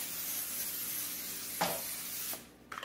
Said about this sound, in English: I'm going to spray this a little bit with some olive oil.